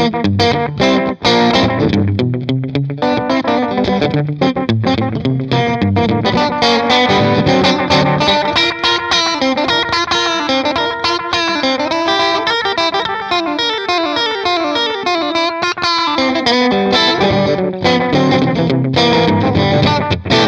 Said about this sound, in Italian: Il delay 2 invece, portato quasi al minimo, suona così.